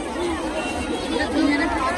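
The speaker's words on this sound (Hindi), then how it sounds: "देखो भाई यहाँ भीड़ भयंकर भीड़ है भाई।" A huge crowd chatters steadily at the Shukratal Ganga ghat during a Jat bathing festival in Muzaffarnagar, a dense, continuous wall of overlapping voices that swells slightly toward the end.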